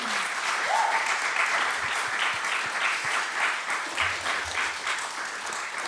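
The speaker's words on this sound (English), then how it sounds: "I would like to have a big round of applause for 4 beautiful papers." Steady applause from an audience at an academic session, dense and continuous clapping lasting several seconds, with a brief voice near the start.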